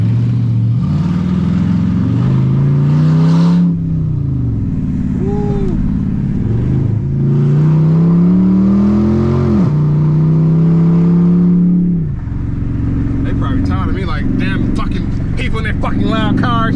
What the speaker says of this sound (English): People in their fucking loud cars.